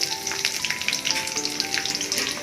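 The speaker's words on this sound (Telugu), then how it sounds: "ఫ్రై చేసేస్తాం" Cashews and chopped carrots fry in a pan, producing a constant, close crackling sizzle with light stirring, over a faint background tone.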